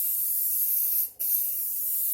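Aerosol spray paint hisses steadily onto a stencil, close and continuous, with a brief break partway through before the spray resumes.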